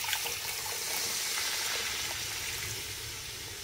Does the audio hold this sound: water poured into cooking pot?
yes